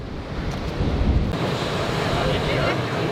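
Ocean surf washing onto a beach in Olympic National Park, a steady broadband roar with a heavier surge early on, buffeted by wind noise against the microphone.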